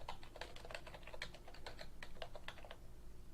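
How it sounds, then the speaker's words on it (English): Rapid clicking keystrokes on a computer keyboard, a steady burst of typing close to the microphone over a low constant background hum, with no talking. "I'll type this in here and see if I can find it"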